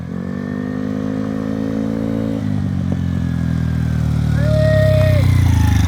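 A motor scooter engine idles and then revs up, the pitch rising and the engine growing louder toward the end, close by.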